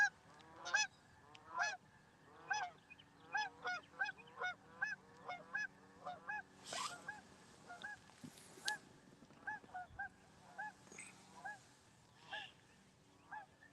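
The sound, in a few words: Canada geese honking flying overhead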